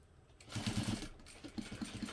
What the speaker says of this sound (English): I can sew through several layers of vinyl without a problem